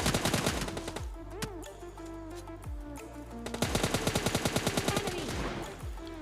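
Gunfire in PUBG Lite, rapid automatic bursts of sharp close shots in rhythmic strings, a pause with scattered single cracks, then another long fast volley, loud and dominant.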